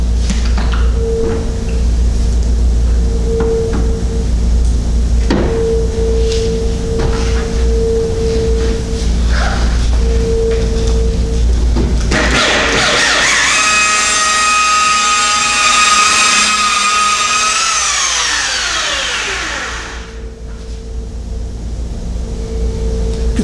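Rotary polishing machine spinning at about 1500 RPM on automotive clear coat, a steady loud motor whine and pad hum that rises into a brighter harmonic tone midway, then winds down near the end, with no talking.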